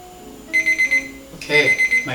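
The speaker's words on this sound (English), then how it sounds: "Okay, my timer's on." A kitchen timer goes off during stovetop rice cooking, two quick bursts of four shrill, evenly spaced beeps separated by a short pause, loud and close.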